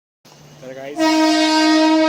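A train horn sounds at Diva railway station. A quieter rising tone comes first, then a loud, sustained, steady blast fills the rest of the moment, close by and with no talk.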